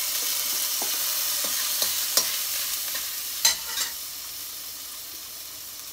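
Ginger sizzles steadily in a pan for goat stew, a close, even frying hiss with a few sharper clicks and scrapes of stirring, no voices.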